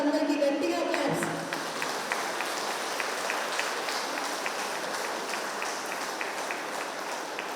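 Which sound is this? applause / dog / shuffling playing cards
applause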